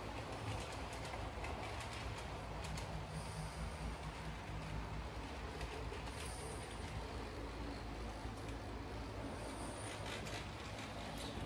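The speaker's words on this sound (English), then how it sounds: "put this on our train and give it a little test run here around the track" A small model train rattles steadily along its track, a continuous clickety running noise with faint high squeaks, no talking.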